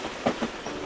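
A short snatch of a moving train: low rumble with two quick clacks of wheels over rail joints, close and moderately loud, no voices.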